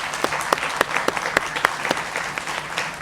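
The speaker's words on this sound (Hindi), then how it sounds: "इस देश की मातृशक्ति के लिए जोरदार तालियां भाई" Loud audience applause at a televised Hindi interview event with Kajol, dense clapping with sharp individual claps standing out, continuous throughout.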